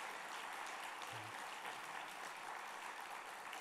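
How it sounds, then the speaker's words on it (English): Steady crowd applause at an indoor San Antonio Business Hall of Fame awards event, a dense, even patter of many hands clapping throughout, fairly faint and distant. "I would like you to give them a big round of applause."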